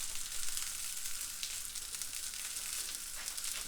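Sausages sizzle steadily in a frying pan, a dense continuous crackle and hiss with no pauses, close and fairly loud, with no voices over it.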